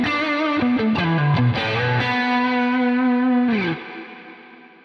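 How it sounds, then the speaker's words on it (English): Clean electric guitar lead through a low-gain overdrive, compressor, chorus and reverb: a short run of sustained melodic notes, then one long held note that bends down and fades into a reverb tail. Played alone, no voices. "I'm using the overdrive pedal with the gain set really low for just a very slight boost. I'm also using the compressor."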